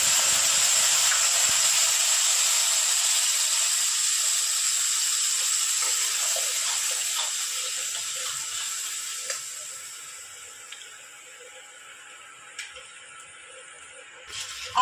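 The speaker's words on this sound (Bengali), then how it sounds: "আদা পেঁয়াজ রসুনের পেস্টটা যতক্ষণ কাঁচা গন্ধ না যাবে ততক্ষণ আমি কষিয়ে নেব।" A paste of ginger, onion, garlic and green chilli sautéing in hot oil makes a continuous bright sizzling hiss that slowly settles and fades, with a few small clicks and taps of a utensil toward the end.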